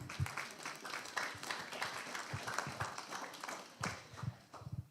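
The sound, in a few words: audience applause for a school presentation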